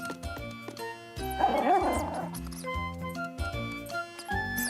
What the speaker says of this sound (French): le chiot ne faisait plus du tout peur à Caillou